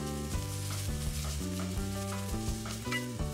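Shallots sautéing in a pan for Taiwanese meat sauce give a steady, close sizzle throughout, with tonal background sounds layered over it.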